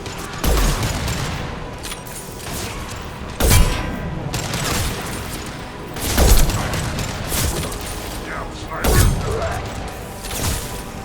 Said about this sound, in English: Firing an impact shot! Heads up!